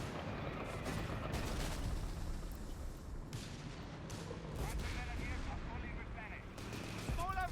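Continuous barrage of booming artillery and scattered gunfire in Company of Heroes 3, with Nebelwerfer rockets and mortars in a dense battle, rumbling steadily throughout with a voice talking over it.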